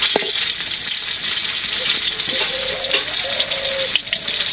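Two pieces of food fry crisply in hot oil in a village kitchen, a steady close sizzle with a few faint tonal clinks and bubbling bursts layered over it.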